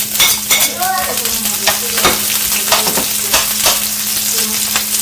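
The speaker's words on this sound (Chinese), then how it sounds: "我们现在爆香。" Ginger, scallion and onion stir-frying in hot oil in a wok, loud and close, with continuous crackling sizzle and quick repeated spatula scrapes and tosses.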